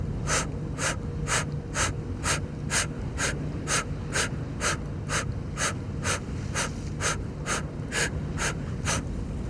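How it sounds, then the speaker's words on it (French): Rapid, forceful breaths repeat in a steady rhythm during a breathing exercise, about two per second, close and clear, with no talking. "Inspirez profondément."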